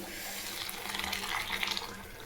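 Water splashes and trickles steadily into a cooking pot of soaked rice at close range, a fairly quiet, continuous pouring sound.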